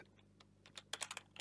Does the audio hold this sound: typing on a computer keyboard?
yes